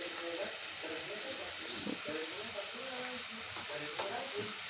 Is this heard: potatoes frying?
yes